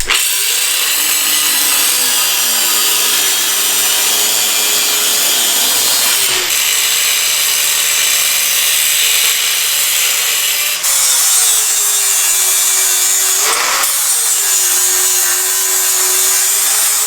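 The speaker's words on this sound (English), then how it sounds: "we gotta cut out the bump stops" Loud, continuous power-tool cutting through metal bump stops on a C10 truck, a steady high-pitched grinding whine that shifts pitch slightly as the blade bites, with brief pauses.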